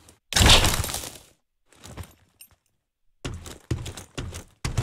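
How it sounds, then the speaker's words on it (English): Glass windows smashed in the video game Fire Fighting Simulator: a loud, sharp shatter near the start, then several more bursts of breaking glass and thuds separated by short silences. "Hooray, I broke some windows."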